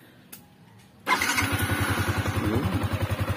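A Yamaha Sniper 155 VVA motorcycle engine cranks and fires after a fresh oil change, catching abruptly and settling into a steady, close, pulsing idle with even beats.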